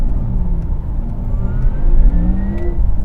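A Porsche Taycan Turbo S electric sports car's synthetic drive sound, a steady low hum with rising laser-like whine tones sweeping upward, fairly loud and continuous with no talking.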